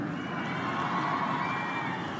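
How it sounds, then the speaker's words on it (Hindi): Women in a political rally audience in Himachal Pradesh clap and cheer, a dense, steady wash of crowd noise that holds at the same level throughout with no clear single voice above it. "देखिए ये ताली और बजा रही हैं"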